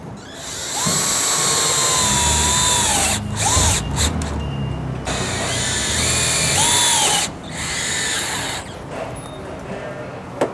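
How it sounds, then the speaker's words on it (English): A drill drives self-tapping screws into a supercharger bracket on a Jeep JKU, a loud whirring whine that rises and falls in pitch across several bursts with brief stops between them. "I'm going to use self-tapping screws to hold it down."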